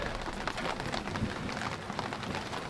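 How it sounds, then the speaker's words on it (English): Steady rain falls around a mountain camp, a continuous close patter and hiss with low rumbling underneath that suggests a bit of distant thunder, with no voices. "there's a bit of thunder. Just waiting out the rain"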